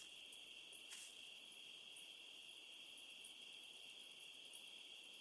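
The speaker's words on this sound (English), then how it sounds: "I like the little cicada noises and stuff." Cicada insects in the Metal Gear Solid 3 video game give a faint, steady high-pitched buzzing drone that continues without pause as quiet background ambience.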